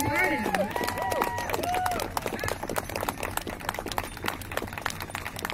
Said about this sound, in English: So we can have a huge round of applause for MPP Harden.